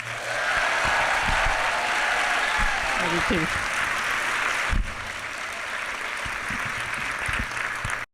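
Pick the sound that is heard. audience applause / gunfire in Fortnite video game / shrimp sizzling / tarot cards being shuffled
audience applause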